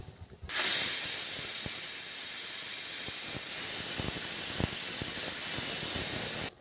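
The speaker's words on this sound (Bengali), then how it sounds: "জল ফুটে গেছে, এখন আমি চালটা দিয়ে দেব।" A cooking pot of salted water seasoned with bay leaves and pepper comes to a vigorous boil, giving a steady loud hiss of steam and bubbling with scattered small pops, heard alone and close.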